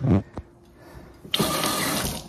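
Water gushes hard from a kitchen sink faucet at strong pressure, a loud, steady rushing stream that starts abruptly after a short stretch of quieter room sound and runs to the end.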